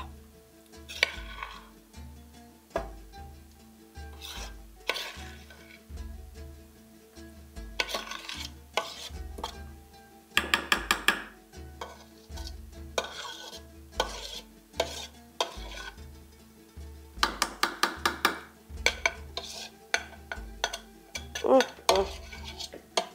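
A spoon scrapes and stirs thick, oily traditional halva around a pot, giving repeated close scraping strokes with metallic clanks, in bursts between brief pauses.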